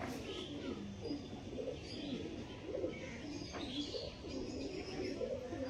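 Kalonka pigeons coo in soft, repeated throaty calls, a steady low murmur from several birds nearby with faint chirps mixed in.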